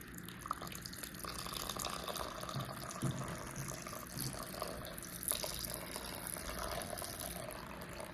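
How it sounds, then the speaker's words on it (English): Evaporated milk pours from two cans into a bowl of mashed sweet potato for pie filling, a steady liquid gurgle and splash running for several seconds over faint kitchen background noise. "I'm gonna put in 2 cans of evaporated milk."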